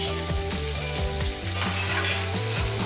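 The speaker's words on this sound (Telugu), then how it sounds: "ఆ తర్వాత కట్ చేసుకున్న ఉల్లిపాయ, పచ్చిమిరపకాయలు వేయాలి. ఈ ఉల్లిపాయ, పచ్చిమిర్చి బాగా వేయించాలి." Cut onions and green chillies frying in hot oil for a spiny gourd curry, giving a steady, close sizzle with bursts of stirring that runs through the whole stretch with no talk.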